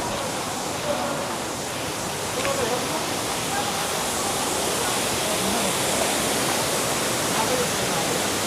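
A waterfall beside a mountain road on the way to Hile Bazar roars as a steady, broad wash of rushing water that fills the whole stretch without pause.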